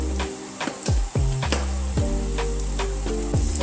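Vegetable fritters with largely chopped vegetables frying in a pan, a steady close sizzle broken by sharp crackles and pops at irregular intervals.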